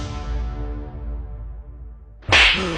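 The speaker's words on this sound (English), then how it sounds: "The slap was loud and clear." A sharp, loud slap lands alone near the end, cutting in after a long fading low musical tone.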